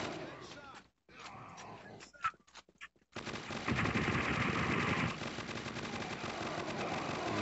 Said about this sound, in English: All I can hear is your gunfire.